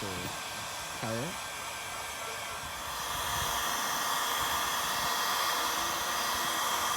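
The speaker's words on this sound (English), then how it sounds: "so you wanna heat it up with a heat gun" A heat gun blows a steady, loud hiss of air while preheating a Kydex sheet to fit as a kayak keel protector. The blast grows stronger partway through, and a brief voice is heard at the start.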